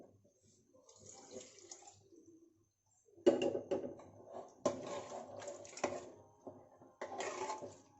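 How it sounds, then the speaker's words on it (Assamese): Water is poured into a pot of khichdi, a quiet trickle at first, then after a pause louder splashing bursts as it hits the contents, close by, with faint background noise. "খিচিৰিখিনি মোৰ বহুত গোটা হৈছে, সেইবাবে ইয়াতে অলপমান পানী দিম।"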